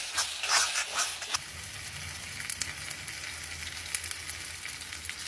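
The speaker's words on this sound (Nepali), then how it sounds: "अहिले नै भुटिन्छ तेलमा" Asafoetida sizzles in hot oil in a home kitchen while chana dal is being cooked, a soft steady crackling hiss close by with brief louder spits near the start.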